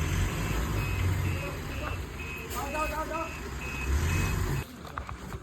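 A delivery truck being loaded with LED lighting goods idles nearby with a rumbling engine, while a reversing alarm beeps in a steady repeating pattern and people talk over it.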